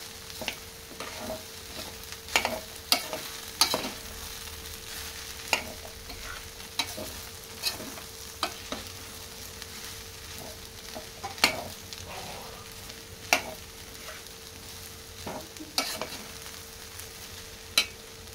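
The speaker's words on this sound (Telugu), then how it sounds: "ఆనియన్ బాగా ఫ్రై అయ్యేంత వరకు ఫ్రై చేసుకోవాలి." Onions frying in a pan for a Telangana taro root (chamagadda) curry, a steady crackling sizzle broken by frequent sharp scrapes and clicks of a spoon stirring against the pan, with no voices.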